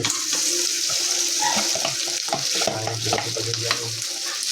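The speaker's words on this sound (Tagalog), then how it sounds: "Nilagyan na po na itong kanin na bahaw" Day-old leftover rice stirred as it fries in a pan with browned garlic, giving a steady close sizzle broken by scraping and clinking spoon strokes throughout, with no talk.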